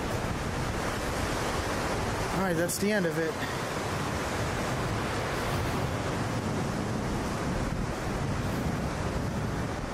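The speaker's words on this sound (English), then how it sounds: "All that river down there is super strong." A strong river rushes far below a tunnel, a steady broadband roar filling the whole stretch, with someone speaking briefly over it near the start.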